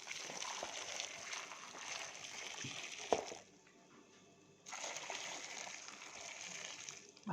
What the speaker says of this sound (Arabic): هنحط بقى عليه ميه بتغلي